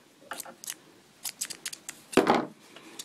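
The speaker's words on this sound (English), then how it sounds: "I guess I'll do it with the scissors. I'm just going to cut this thread" Scissors snip sewing thread beside a quilting sewing machine: a handful of quick, crisp close-up clicks, then one louder, longer cut near the end, in an otherwise quiet room.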